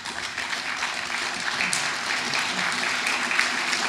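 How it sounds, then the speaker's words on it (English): Steady, dense applause from the audience at a Public First Group council meeting in Bridport, heard close and loud, holding at an even level throughout with no pauses. "You're getting a big round of applause there."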